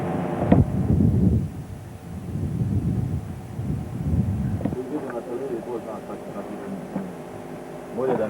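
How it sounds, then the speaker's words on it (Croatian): Low, rolling thunder rumbles in the distance while people talk nearby. "A grmi, bogate oblaci kad se spoje onda"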